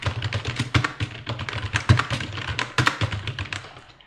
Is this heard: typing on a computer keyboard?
yes